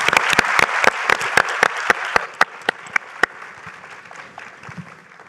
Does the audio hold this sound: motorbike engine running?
no